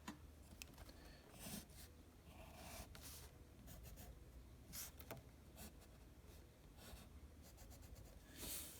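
A pen or pencil sketches triangles on paper with faint, scratchy strokes in short bursts over a steady hiss of background noise.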